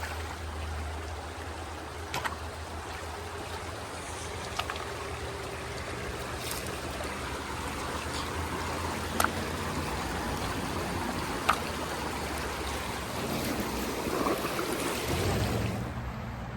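A creek at California's Petrified Forest flows steadily in a soft, continuous babble and trickle, quiet and even throughout, with a few faint clicks or knocks scattered over it and no talking.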